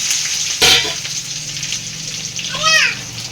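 Dried red chilies and garlic hit hot oil with a sharp burst of sizzle early on, then a sustained crackling fry, with a short child-like vocal sound rising over it near the end.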